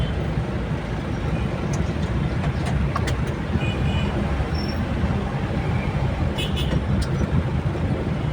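Road traffic flowing past, a dense low rumble of car and vehicle engines with tyre noise, continuous and fairly close, dotted with brief high squeaks and clinks.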